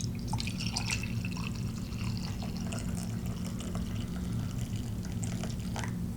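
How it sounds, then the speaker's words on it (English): Death Wish medium roast coffee streams steadily from a brewer's pot into a cup, a continuous close pour with no talking. "Gonna pour myself a cup of coffee."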